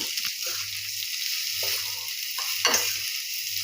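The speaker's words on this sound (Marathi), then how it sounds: "आता याला पण थोडंसं शेकून घेऊ." Rice and grated coconut roast in a pan with steady dry sizzling and scraping and soft rhythmic stirring strokes throughout, close and moderately loud.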